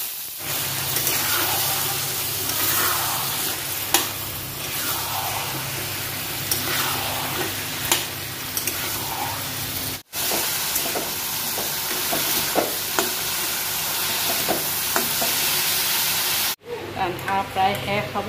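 Onions fry and sizzle in a pan as the base for a meat curry, a steady close hiss with stirring clatter, a brief cut near the end.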